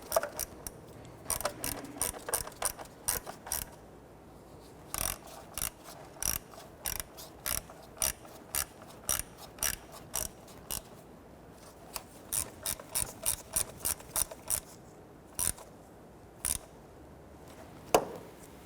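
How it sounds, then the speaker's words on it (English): Close, quick bursts of ratchet clicks tightening bolts on the plastic water pump housing cover of a 1992-1996 Toyota Camry 2.2L four-cylinder, with short pauses between each run of sharp pawl ticks. "gently snug down those 4 bolts"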